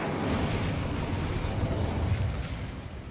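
The Incendio fire spell cast in Hogwarts Legacy, a loud rushing burst of roaring flame with a rumbling low end, sustained for a few seconds before easing off.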